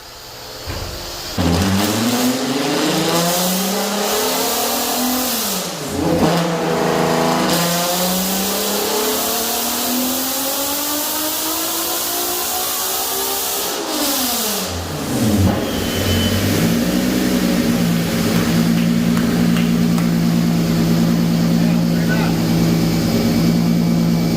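A VW Corrado drag car with a 3.6 engine revs hard on a dyno, the loud engine note sweeping up and down through several long pulls before settling into a steady high drone.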